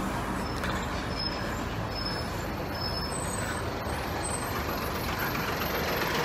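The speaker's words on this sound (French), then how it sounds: "Monsieur, il a un gros camion." A big truck with air brakes rumbles close by in city traffic, a loud continuous engine and road roar with brief high hisses and tones above it, no voices.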